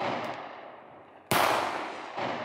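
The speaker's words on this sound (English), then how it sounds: "We're also shooting heavy shots, frangible ammunition." Heavy frangible ammunition fired outdoors: a loud, sharp shot cracks out abruptly midway, leaving a decaying rumble, with fainter earlier report tails trailing off before it and a smaller burst near the end.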